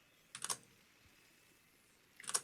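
Two short bursts of computer keyboard typing and clicking, quiet keystroke clusters near the start and end with near silence between.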